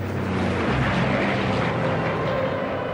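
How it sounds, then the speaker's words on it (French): De Havilland Mosquito aircraft returning to an airfield, a steady broad engine roar holding loud and even for the whole stretch, with no voices. "Les Mosquitos rentrent à la base un par un"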